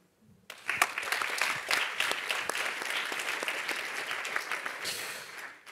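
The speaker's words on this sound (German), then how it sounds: "Applaus" Applause from the audience at a Berlinale 2024 Q&A event, starting abruptly after a brief quiet moment and continuing as a full, dense clapping crowd, with a slight swell near the end.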